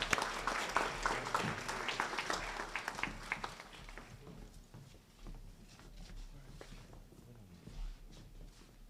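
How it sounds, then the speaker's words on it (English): Audience at a Prince Hall Grand Lodge scholarship and awards event applauds a scholarship presentation, a burst of clapping that fades after a few seconds into scattered claps, shuffling and room noise. "Give him a round of applause."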